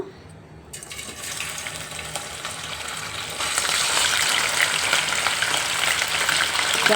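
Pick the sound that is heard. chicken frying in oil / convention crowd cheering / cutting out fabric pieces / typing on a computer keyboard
chicken frying in oil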